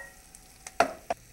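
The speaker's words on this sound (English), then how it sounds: "Give that a good stir." A spoon scrapes and clinks a few times in a pot of roasted tomatoes and tomato soup ingredients, quiet sparse knocks with a faint sizzle between.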